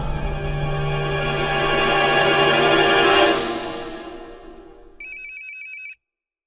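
A phone ringtone plays steadily for several seconds, then a short electronic beeping pattern follows before silence.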